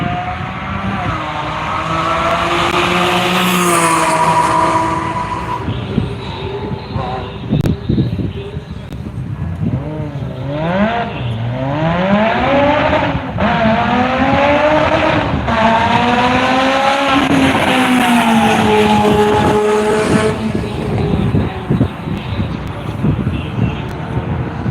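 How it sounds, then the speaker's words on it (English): A Lotus race car lapping Worldwide Technology Raceway, its engine note loud and close, pitch rising and falling through gear changes and corners, with a commentator's voice heard over part of the engine noise. "As the Lotus enters the infield, here comes Adam completing his first lap."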